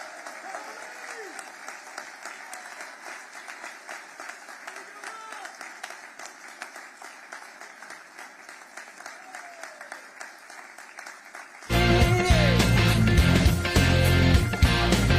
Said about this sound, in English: round of applause for your next lieutenant governor